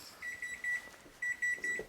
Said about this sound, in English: I'll just turn off the buzzer there.